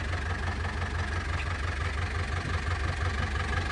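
An old tractor, abandoned in the woods for a few years, idles steadily with a low, continuous engine rumble, close and even, with no voices over it.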